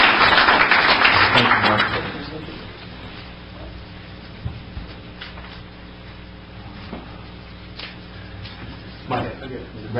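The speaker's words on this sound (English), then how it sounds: "they deserve a round of applause" Applause in a city council meeting room for a group of girls being congratulated. A burst of clapping lasts about two seconds, then fades into quiet room tone with occasional small taps and faint background voices.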